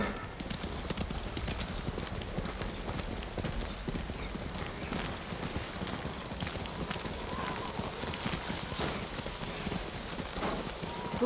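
Horse hooves gallop in the snowy countryside of the video game Ghost of Tsushima, a steady loud clip-clop that runs throughout, mixed with wind and game sounds, with no speech over it.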